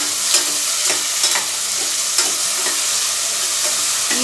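Tomatoes added to browned onions fry and sizzle in a pan, a dense continuous hiss broken by several sharp stirring scrapes and spatters, close and fairly loud with no voices.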